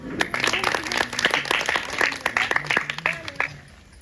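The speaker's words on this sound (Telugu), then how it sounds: "క్లాప్స్ కొట్టండి." Applause from a church congregation at a semi-Christmas gathering comes as scattered, uneven clapping, with bursts of talk and vocal sounds over it before it fades out.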